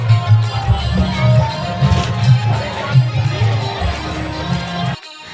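A dense crowd gathers at a Chhath puja evening offering, a steady outdoor murmur of many voices with bursts of nearby chatter, cutting off abruptly at the end.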